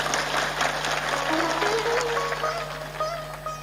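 An audience at a spiritual talk claps in dense, continuous applause at moderate distance, with a tonal hum and a rising whistle-like tone running through it.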